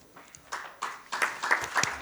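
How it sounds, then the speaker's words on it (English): A few people clap to welcome a guest at an agriculture ministry event on crop diversification. About seven separate, fairly close claps come at irregular intervals, growing slightly louder toward the end. "A big round of applause, sir."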